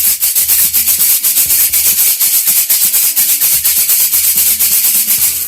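A light aluminium Meinl shaker is shaken close up in a fast, even rhythm, each stroke a loud, hissing rattle of beads, with no voices.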